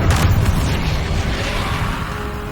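A Bombarda blasting spell explodes in the Hogwarts Legacy video game: a loud, close boom at the start that decays into a sustained rumbling roar.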